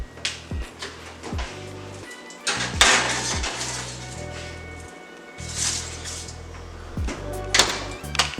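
A tray of bacon-wrapped dates slides into a 300-degree oven: close metallic clatters and clanks of pan and rack, with a couple of sharp knocks and scrapes as the oven door and rack move.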